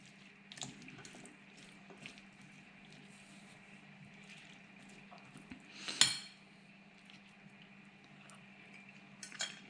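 Tuna stirred into a red bean salad in a bowl, with soft scraping and scattered light clinks of a utensil against the dish, fairly quiet and close, plus one sharper knock near the middle.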